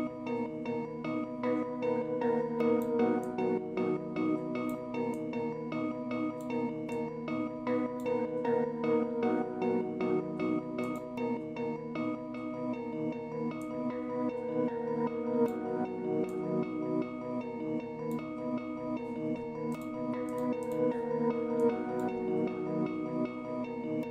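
A muddy, dense synth sound in an uptempo trap beat built in FL Studio is chopped into a rhythmic, swinging pulse by Gross Beat volume gating. It runs steadily for about twenty-four seconds, sustained and mid-heavy, with no voices.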